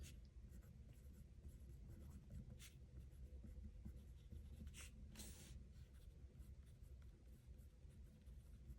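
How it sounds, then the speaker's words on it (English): Pen scratching out a small checkbox on paper in a pocket-size traveler's notebook, a close, steady scribble of faint strokes with a few brighter ticks, no talking. "So I'm going to draw a little checkbox."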